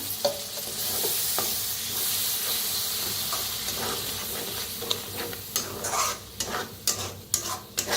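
Spiced masala for a wedding-style brinjal and potato curry sizzles and hisses in a pan with a splash of water, with steady scraping stirs that turn sharper and more clacking toward the end; no voices.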